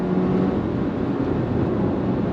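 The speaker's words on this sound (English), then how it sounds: "from a dead stop, if you're ready, I'm ready. On throttle, all slip, no grip." A 2024 Subaru Impreza RS hatchback with all-wheel drive accelerates hard from a dead stop, its engine giving a loud, steady droning roar with road and wind rush, heard from inside the car.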